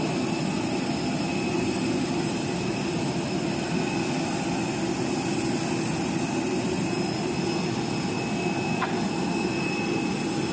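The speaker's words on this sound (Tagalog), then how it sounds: "Paakyat na kami sa aeroplano." Airplane engine droning steadily while passengers board, a loud continuous jet roar and whine with no talk.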